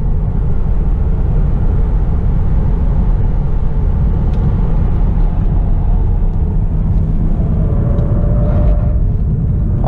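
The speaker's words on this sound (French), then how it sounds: "Vas-y, accélère!" A Tesla Model 3 Performance accelerates on a race circuit, giving a steady, loud rumble with road and wind noise throughout and no talk.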